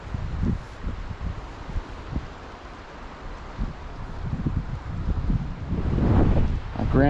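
Gusty wind buffets the microphone outdoors beside a river in the Eastern Sierra, rising and falling in irregular low rumbling bursts that swell louder toward the end, with a faint voice murmuring briefly.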